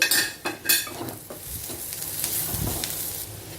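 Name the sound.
bitter gourd pieces and onions frying in a pan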